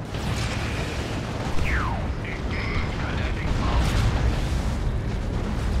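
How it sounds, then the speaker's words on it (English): A steady barrage of rocket explosions rumbles against a Chaos Dreadnought in Dawn of War 2: Retribution, continuous heavy booming with mechanical rattles and faint battle effects layered on top. "Four rocket barrages I put into him."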